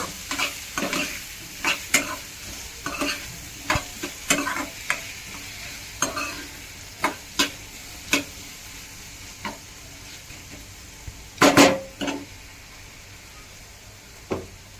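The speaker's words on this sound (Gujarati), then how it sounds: "હળદરને મસ્ત હલાવી દેવી" Turmeric is stirred into a raw mango curry in a pan, with a spoon scraping and clacking in irregular strokes over a faint background sizzle. A louder cluster of scrapes comes near the end. No one speaks.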